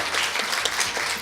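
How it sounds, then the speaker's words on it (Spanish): Audience applause at a university talk on reporting suicide news, a dense, steady burst of many hands clapping close by, brief and unbroken. "Le damos un fuerte aplauso a las expositoras que estuvieron en esta noche"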